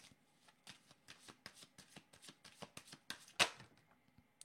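Playing cards shuffled by hand during a tarot-style card reading, a quick run of crisp riffling flicks and soft slaps close by, with one louder snap near the end and no talk.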